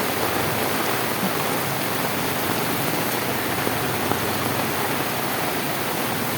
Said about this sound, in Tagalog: Lakas na ng ulan.